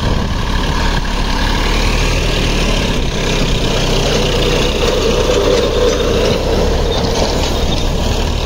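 A Diana Track 254DI four-wheel-drive tractor ploughs small patches of hard soil in low second gear at about 1600 RPM. Its diesel engine gives a steady, loud, close rumble that runs unbroken throughout, with no talk.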